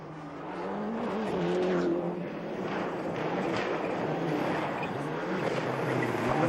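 Toyota Celica rally car from the 1995 World Rally Championship, pushed hard on a special stage: a continuous engine drone with shifting pitch, steady and fairly close, with no talk over it.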